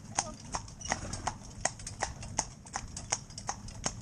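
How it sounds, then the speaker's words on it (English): A cob horse's hooves, shod with driving plate shoes, clop steadily on hard ground in an even trotting rhythm, each strike ringing with a metallic note, close by. "you just listen now to the note of her shoe as it lands."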